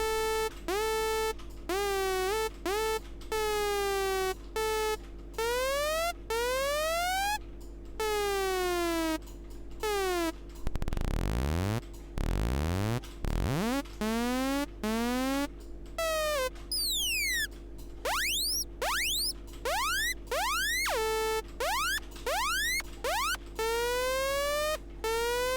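A screeching synth lead built in Sylenth1 glides and bends through sweeping pitch slides, with a short dive-bomb swoop near the middle, playing alone, loud and steady, with no voices.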